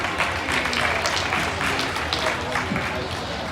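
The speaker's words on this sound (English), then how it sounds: "give all these kids a round of applause." An arena crowd at a junior market lamb show applauds the young exhibitors in the ring, a dense, steady wash of clapping under a voice over the loudspeaker.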